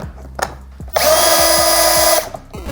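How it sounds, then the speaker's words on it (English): A power drill drives a 3-inch deck screw all the way into a door frame, a loud sustained whine of a little over a second, preceded and followed by a few quieter clicks and handling knocks. "So I'm just gonna use these 3-inch deck screws. We're gonna go all the way in."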